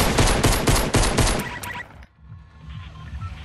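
Rapid automatic gunfire in Fortnite, a fast burst of loud close shots for about a second and a half that stops abruptly, leaving quieter game sounds behind.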